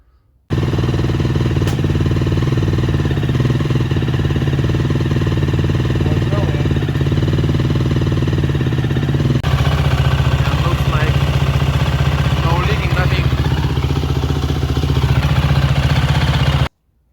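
A KTM motorcycle engine, its clutch slave cylinder freshly rebuilt, runs steadily at a close, loud idle with a throbbing low rumble and a mechanical clatter. The tone shifts slightly partway through.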